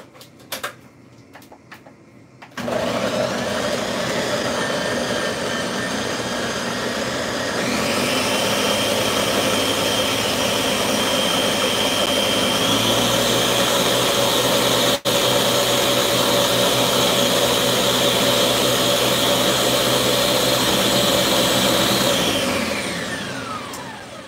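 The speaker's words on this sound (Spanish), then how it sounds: "Vamos a licuar." A blender whirs through sofrito ingredients with celery, starting abruptly and running loud and steady for about twenty seconds, its pitch shifting slightly as the contents churn, then winding down near the end.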